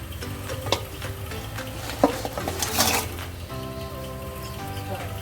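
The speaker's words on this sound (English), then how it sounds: "Now let's add the crabs to this." Crabs fry and get stirred into a blended masala of onion, tomato and ground spices for a pepper fry, a steady close sizzle broken by a few spoon scrapes and clinks, with faint background music running underneath.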